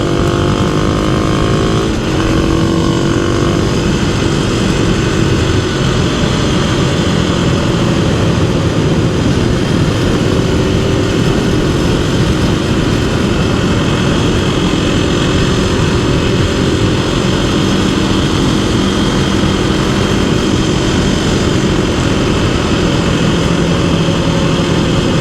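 A Kawasaki KLX300 dual-sport motorcycle's engine drones steadily while riding on the road, loud and close with constant wind rush, a continuous unbroken hum from start to finish.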